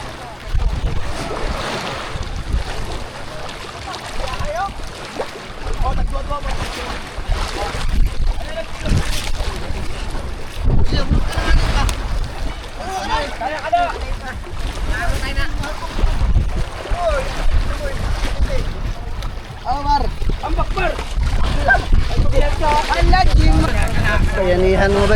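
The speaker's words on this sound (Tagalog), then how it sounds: "Dito naman tayo sa sinakyan naming bangka." A small boat, a bangka, travels on the sea near an island with the steady rush of wind and water around it, while people talk and call out over the noise.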